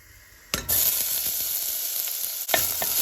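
Chopped onion hits hot oil in a pan for brinjal foogath, a sudden loud sizzle that settles into a steady hiss, with a stir or second splash near the end.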